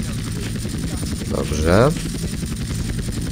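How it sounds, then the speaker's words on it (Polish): A military helicopter armed with cannons and a machine gun drones steadily in Grand Theft Auto San Andreas as its rotors hum, while someone speaks over it. "Fajny ten helikopter, taki chyba, to jest taki wojskowy."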